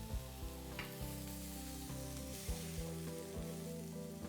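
Bell peppers and kebab sauté in a pan, giving a steady, close sizzle with faint stirring scrapes, under a quiet musical bed and with no talking.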